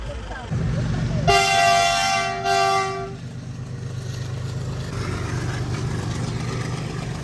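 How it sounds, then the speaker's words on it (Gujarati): A train horn sounds twice, a long blast then a shorter one, over the steady low rumble of a train passing a closed railway crossing, with voices nearby. "જે બીજી રેલગાડી આવે અવાજ આવ્યો"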